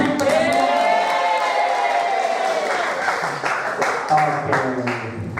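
Applause from a room of teachers at a motivational training session: dense clapping with a few cheers, loud and close, continuing for several seconds while a voice talks over it.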